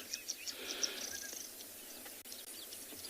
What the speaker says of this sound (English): All the birds are getting active.